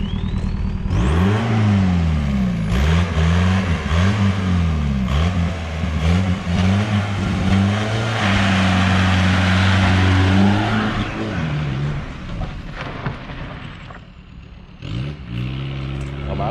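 A smoking Volkswagen Golf 3 GT 110 engine revs repeatedly, climbing and falling in pitch, then holds a steady loud drone before dropping back to idle, all very close.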